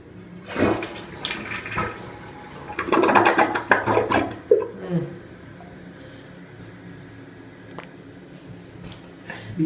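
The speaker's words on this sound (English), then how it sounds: "Alright, let's give her a flush." A Kohler toilet in a restaurant men's room flushes nearby: a handle click, then a loud rushing, gurgling surge of water that drains down and trails off into a quieter refill.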